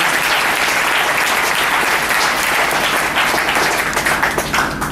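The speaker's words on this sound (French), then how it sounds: "Acclamons très fort le Seigneur Jésus-Christ." A church congregation breaks into loud, sustained applause, dense clapping from many hands close by that holds steady throughout before thinning slightly at the end.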